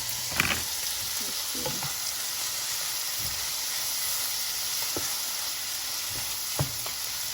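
Food for a home hibachi meal frying in a pan, with a steady close sizzle and hiss throughout and a few scattered scrapes and taps from a utensil stirring.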